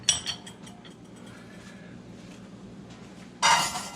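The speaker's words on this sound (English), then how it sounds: "So I'm going to put it on high heat, whisk it." A whisk works salmon BBQ glaze in a pot on high heat, making light metallic clinks and scraping against the pot, ending in a louder burst of clatter, with no voices.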